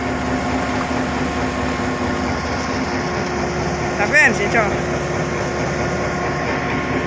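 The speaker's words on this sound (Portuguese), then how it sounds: "É o trem de fazer manutenção na linha" Rail maintenance train sitting idle in front of a house gate, a steady engine drone and hum throughout under a person talking nearby, with a brief louder clank or squeal partway through.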